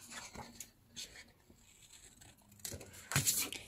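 Scissors fussy-cut around paper for a craft journal, giving a few soft, close snips and papery rustles in a quiet room.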